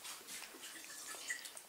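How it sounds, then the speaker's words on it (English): Water runs from a kitchen tap into a drinking glass, a faint, steady trickle with small drips, distant and quiet, with no voices. "Oh, Ray's getting a glass of water there."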